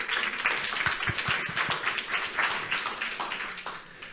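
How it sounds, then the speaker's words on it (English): An audience at an annual EU Danube Region forum claps together in steady, dense applause, holding at moderate level throughout before easing slightly at the end. "So let's do a collective applause for everyone here and online."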